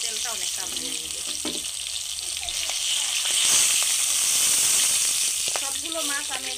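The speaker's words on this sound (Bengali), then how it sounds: "সবগুলো মাছ আমি এভাবে সুন্দর করে আমি ভেজে নেব।" Fish frying in a pan of oil, a steady broad sizzle running throughout with a slight swell midway, faint clinks and background talk underneath.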